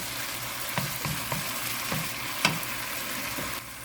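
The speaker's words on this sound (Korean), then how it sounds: "이렇게 해서 한 1분 30초만 볶아주시면 금방 다 됩니다" Eggplant stir-fries in a hot pan, giving a steady close sizzle broken by a handful of scraping stirs of the utensil against the pan. No voices.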